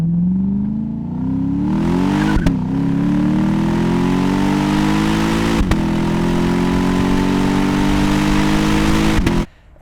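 A Lexus IS F V8 engine revs close by, its deep tone climbing and holding high before the throttle snaps shut, with sharp exhaust cracks punctuating the drone at each gear change and a sudden cutoff at the end.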